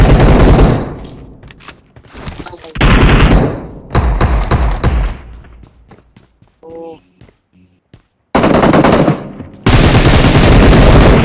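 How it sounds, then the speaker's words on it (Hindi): Long, loud bursts of PP Bizon submachine gun fire in BGMI come close up in several sustained volleys, with short gaps and scattered single thuds between them, and a voice comes in briefly during the pause. "बंदा यार पीपी बाइजन से फायर किया था"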